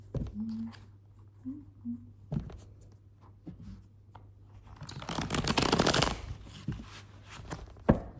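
A deck of tarot cards shuffled for a clarifying draw, with scattered light taps and a dense riffle building to a louder burst in the middle, close and moderately quiet, with a faint hum underneath.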